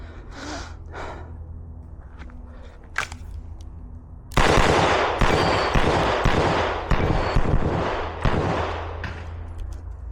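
Rapid gunshots from a CZ Shadow 2 pistol firing blue bullets, a string of loud, sharp close reports in quick succession after a few quieter pops, with echoing decay between shots.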